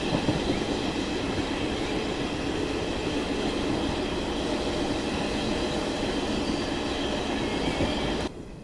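The Yuva Express, a passenger train near Mathura on a foggy morning, rolls along with a loud, continuous rumble and wheel noise that holds steady and then drops off sharply just before the end.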